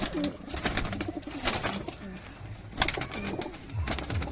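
Teddy pigeons coo repeatedly in a loft at Canning, several soft overlapping throaty calls close by amid light fluttering and rustling.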